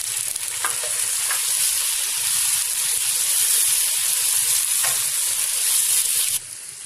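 Tomatoes frying in a pan for beef Nargisi kofta, a steady loud sizzle with faint stirring scrapes, cutting off abruptly near the end.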